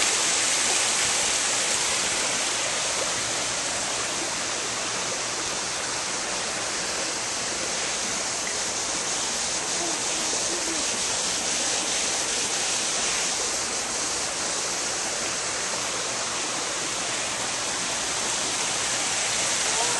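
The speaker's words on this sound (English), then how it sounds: "I've got waterfalls." Backyard waterfalls at a house send down a steady, unbroken rush of falling water, broadband and even in level throughout, with no voices over it.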